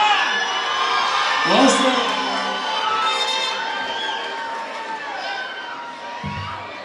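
A concert crowd cheers and shouts in a bright, sustained roar, with whoops rising and falling and a performer's voice calling out over it.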